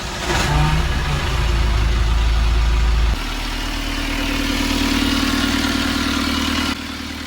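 A boat engine runs loudly and steadily, with a sudden shift in tone partway through before it settles into a lower drone.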